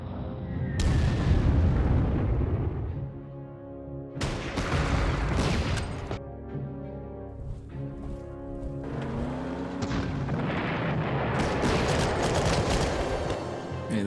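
Bombing attack in the Panzer Corps strategy video game: loud, booming explosion bursts in several separate waves, heavy low rumble and crackling blasts with brief quieter gaps between them.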